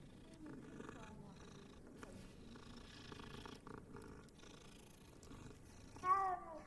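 A cat at Hogwarts in a game purrs steadily with a soft low rumble, while faint chatter and background bustle sit around it and a brief higher mewing cry rises near the end.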